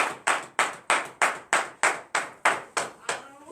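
Church congregation at a morning prayer gathering in Benin clapping in unison, about ten sharp, evenly spaced collective claps that ring out loud and close with a slight reverberant tail.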